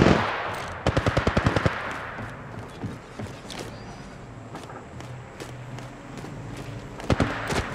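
Rapid automatic gunfire rattles out in short bursts in Apex Legends Mobile, with a long burst near the start and another at the end, and softer movement and mechanical clicks in between.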